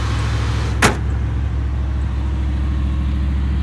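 A 1992 Chevy Suburban 2500 4wd with a 454 7.4 V8 idles steadily nearby, a deep continuous rumble with a single brief sharp knock or clunk near the start.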